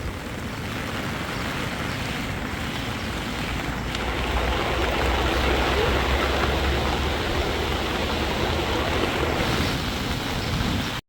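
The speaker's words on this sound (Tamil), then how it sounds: "தண்ணி என்ன போக்கில் போகுதுன்னு பாருங்க." Continuous heavy rushing of water through open spillway gates at Iranamadu reservoir, a dense roaring torrent that swells slightly midway, loud and steady with no voices.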